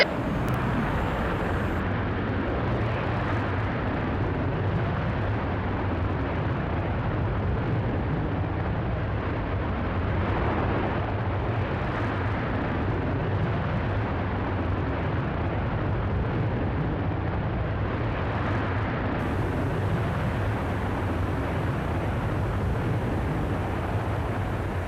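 Virgin Galactic's Unity spaceplane fires its rocket motor after release, a sustained, dense roar that stays loud and even for about 25 seconds without any audible voices.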